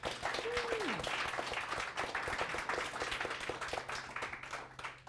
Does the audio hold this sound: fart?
no